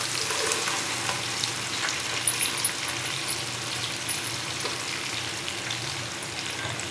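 Ground tomato paste frying in a pan while being stirred, a steady close sizzle with scraping stir strokes and a few louder spatters.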